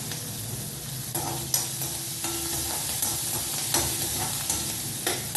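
Chana dal and green chilies fry in hot oil for rava upma, giving a steady close sizzle with crackling pops and occasional stirring scrapes throughout.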